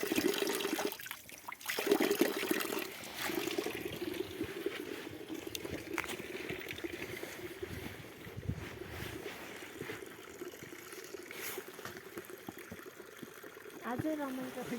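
Drinking water pours steadily from a tap at a dam-side spot, a continuous nearby gushing splash that runs throughout, with people chatting over it.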